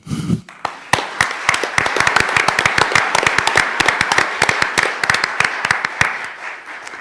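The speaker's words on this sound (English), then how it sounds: "I especially appreciate the applause." Applause at a village council meeting, steady sharp claps from a modest group of people in a meeting room, sustained for several seconds at close to moderate distance.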